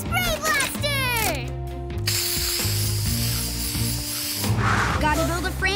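A cartoon spray blaster gives a long hissing spray of paint between ratcheting mechanical clicks and gear whirs, with a voice speaking over it.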